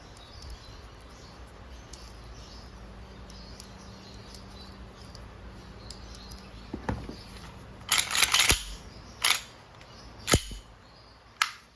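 A WE Glock 35 airsoft pistol fired after a low, quiet stretch, first as a few single sharp snaps, then as a short burst of rapid cracks, followed by two more isolated shots.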